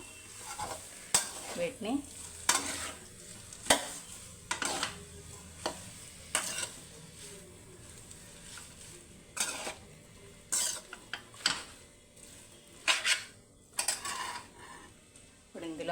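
Chicken noodles being stirred in a frying pan, with a soft background sizzle broken by repeated distinct scraping and tossing strokes at irregular intervals, and a single brief spoken word.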